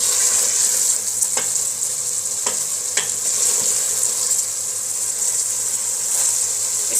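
Mutton korma masala fried on full flame in a pot, a dense continuous hissing sizzle with occasional sharp scrape ticks from stirring, close and steady, no voices.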